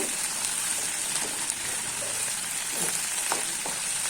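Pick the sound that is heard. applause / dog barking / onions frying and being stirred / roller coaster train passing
onions frying and being stirred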